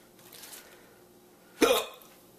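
One hard, abrupt hiccup rings out close by against a quiet background, coming from a person after eating a fiery Trinidad Scorpion Butch T pepper.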